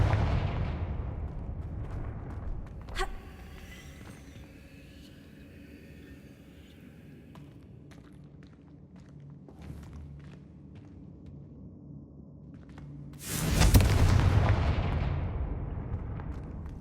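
The Confringo blasting spell in the Hogwarts Legacy video game goes off in a sharp crack early on, then a quieter stretch of game ambience and faint steps gives way to a loud, roaring fiery blast near the end.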